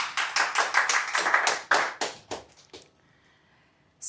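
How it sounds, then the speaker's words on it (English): A small audience at a tech meetup talk claps for a few seconds, separate close hand claps in an uneven rhythm that thin out and stop, leaving near silence before a faint sound at the very end. "You can give yourself a big round of applause."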